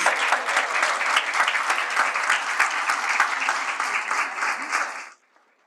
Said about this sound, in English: may we begin by giving our beloved chairman a huge round of applause